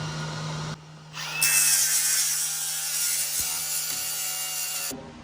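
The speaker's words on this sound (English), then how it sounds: "Okay, so now we got it welded up. Now we're going to grind it down." An angle grinder works down welds on a steel rear bumper for a Suzuki Samurai, a loud close hiss and whine that rises after a second and runs steadily before cutting off near the end.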